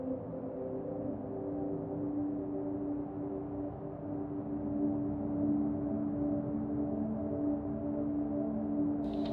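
A treated, processed recording of a gentle thunderstorm forms a steady, low rumbling wash with sustained droning tones, even and continuous throughout with no distinct thunderclaps.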